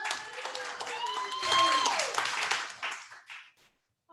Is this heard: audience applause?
yes